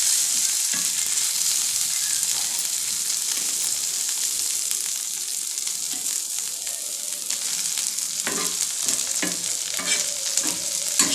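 Pieces of taro (colocasia) roast in plenty of oil, a dense continuous sizzle with intermittent scraping clicks as they are turned, close and fairly loud throughout, no talking.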